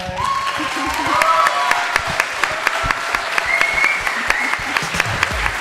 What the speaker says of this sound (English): Sophie, massive round of applause